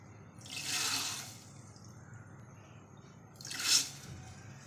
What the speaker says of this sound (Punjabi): ਇੱਧਰ ਚਾਹ ਰਿੱਝ ਰਹੀ ਐ